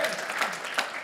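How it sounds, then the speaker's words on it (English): Brief burst of audience applause at a business conference, a dense, moderately quiet patter of many hands lasting about a second. "Give him a round of applause"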